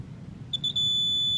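A continuity tester touched to a connected wire during light, switch and outlet wiring gives a shrill electronic beep, first stuttering in short bursts, then holding as a steady tone over a quiet room hum.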